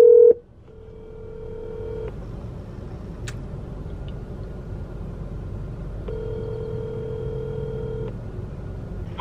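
Two steady ringback tones from an outgoing phone call, each lasting about two seconds and separated by a long pause, over a continuous low hum of indoor background noise. A brief beep sounds at the very start.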